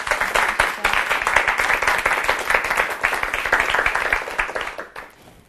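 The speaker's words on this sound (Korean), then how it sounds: "큰 박수로 맞아주시기 바랍니다." A lecture audience breaks into dense, loud applause to welcome a speaker from a Korean leadership center, many hands clapping steadily together before the sound tapers off at the end.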